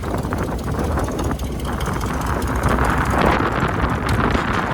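Heavy wind buffeting the microphone beside a 1951 Chevrolet 3105 pickup truck outdoors, a loud continuous low rumble with gusty swells throughout.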